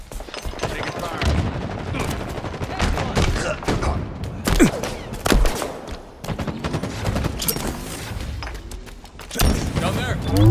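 Rapid bursts of gunfire in a Halo Infinite Team Slayer match, loud and near, with repeated sharp shots and short pauses, and voices speaking over the firing.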